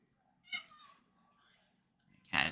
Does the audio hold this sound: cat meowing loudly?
yes